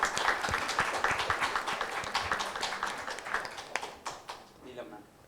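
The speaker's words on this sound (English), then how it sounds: "A round of applause for our panelists now." An audience applauds panelists at a water-security conference. The clapping is moderately loud and sustained, then thins out toward the end, with some voices in the room.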